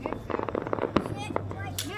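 Fireworks at a public firework show crackle and pop in a rapid irregular barrage of sharp bursts, fairly close, while people exclaim and talk over them.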